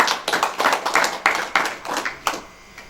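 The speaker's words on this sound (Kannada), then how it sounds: "ಅವನಿಗೊಂದು ಜೋರಾದ ಚಪ್ಪಾಳೆ." Audience clapping during a devotional Purana recitation of the Malingaraya story, a dozen or so sharp, uneven claps from a small group, moderately close and fading out toward the end, with no talking over them.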